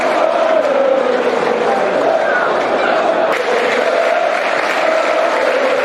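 A large crowd claps and murmurs steadily in a wide open football stadium during a Reading vs Millwall match, with a commentator-like voice faintly underneath.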